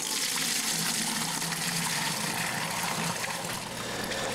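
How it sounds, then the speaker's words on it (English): Homebrewed beer gushes steadily into a fermenter in a vigorous, continuous pour, a loud splashing rush of liquid that holds without pause. "So a vigorous pour at the start is a good thing to make sure that the beer is well aerated"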